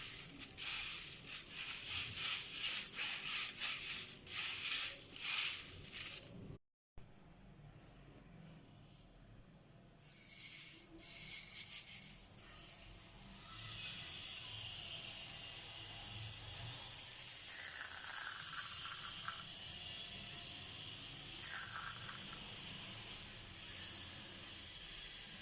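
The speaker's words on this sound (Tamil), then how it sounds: "சூப்பராக நம்மளுக்கு ரவையில் அனியன்ஸ் ஃப்ரை பண்ணி எடுத்துக்கணும்" Onions frying dry in semolina (rava) with no oil, a steady hissing sizzle that drops out briefly, then returns broader and denser for the rest.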